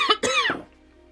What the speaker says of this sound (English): I had a bit of a coughing fit